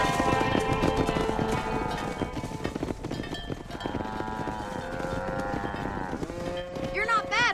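Cattle lowing and horse hooves clopping in the Red Dead Redemption video game, a steady, busy mix of repeated moos over continuous hoofbeats, with game music and ambience underneath.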